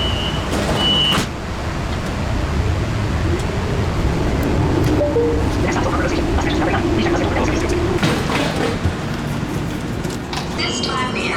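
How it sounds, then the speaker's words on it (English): A rail train pulls away from a station platform at night in Charlotte, North Carolina, a continuous rumbling mixed with crowd chatter and ambient noise, with a brief tone chime early on and clatter near the end. "Train is about to move."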